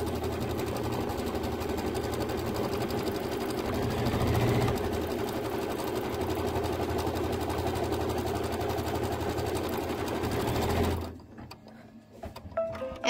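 A sewing machine stitches out a quilt block for an autumn pumpkin quilt, its steady mechanical whir running loud and close for about eleven seconds before stopping abruptly, leaving a quiet room.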